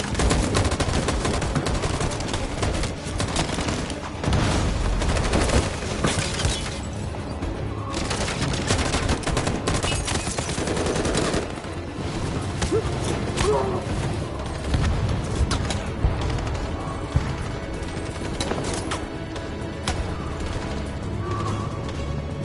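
Soldiers ordered to fire let loose a dense, sustained barrage of gunfire in the video game Detroit: Become Human, with overlapping bursts and booming impacts that stay loud throughout.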